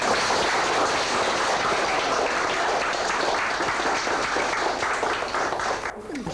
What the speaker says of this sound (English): And what round of applause, please.